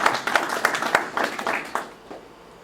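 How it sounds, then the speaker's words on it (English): A small audience claps for a field day teardown crew: a short burst of scattered hand claps that fades out after about two seconds. "a big round of applause for that crew"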